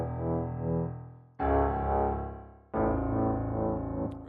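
Piano played with the left hand sounds three struck chords, each ringing and decaying for over a second before the next, clear and close with no talking.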